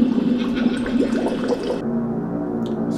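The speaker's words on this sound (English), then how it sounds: "Bubbling and gurgling." Eerie Halloween-style bubbling and gurgling water effect, a loud churning rush of liquid that abruptly thins to a softer trickling swirl partway through, heard alone without voices.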